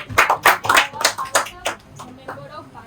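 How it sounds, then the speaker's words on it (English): Audience in a parliamentary-style student debate claps for a speaker, a burst of close, sharp hand claps that thins out over about three seconds into a few scattered claps. "Please clap for her."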